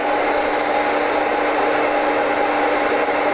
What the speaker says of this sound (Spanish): Si ponemos el secador en funcionamiento